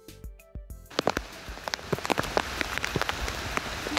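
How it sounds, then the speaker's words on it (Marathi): Rain patters steadily on a surface on a trek near Karjat, with irregular close drops tapping alongside a constant wash of falling water, no voices. "आपल्याला मगाशी वरती दिसला ना तसाच पाऊस आहे इथे."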